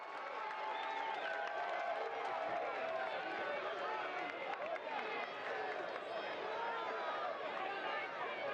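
A football crowd at a Monterey Bay F.C. versus Detroit City FC match gives a sustained, fairly distant ovation, a broad roar of cheering and clapping that holds steady throughout, with commentary talk over it.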